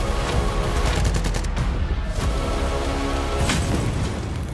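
Rapid bursts of gunfire crackle loudly and continuously, with overlapping shots and booms filling the whole stretch without pause.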